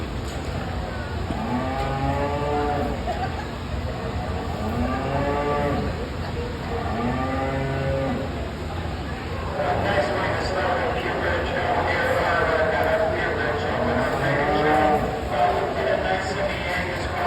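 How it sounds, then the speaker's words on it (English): White-faced beef cattle lowing at a county fair livestock show, several repeated moos in succession rising and falling, fairly close, over steady background crowd and engine rumble. "we have some more cattle here. I believe they're white-faced cattle"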